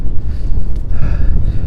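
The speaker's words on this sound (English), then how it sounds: "It's quite windy." Wind buffeting a microphone on the exposed high fell near Little Dun Fell on the Pennine Way, a steady loud low rumble with gusty swells and no speech.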